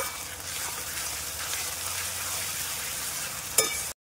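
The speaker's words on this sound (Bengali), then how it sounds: "রসুনটা খুব ভালোভাবে কষিয়ে নিয়েছি।" Ginger garlic paste sautés in a pan with fried onions for a duck curry, a continuous crackling sizzle, ending in a brief utensil clink before sudden silence.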